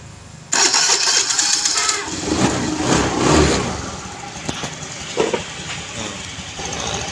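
A Honda Beat FI scooter engine, just repaired after an ECU fault code 12, cranks and catches abruptly, then settles into a close, loud, slightly uneven idle with a few small revs.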